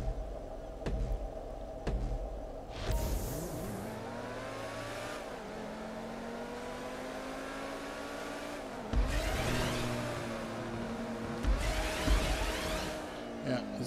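In GTA 5, a car revs and drives over player-built upward boost slides, its engine note rising and falling in long sweeps with bursts of acceleration, while someone talks over it.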